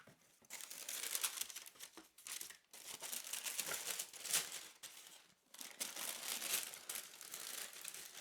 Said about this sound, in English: Let's peel back the wrapping paper.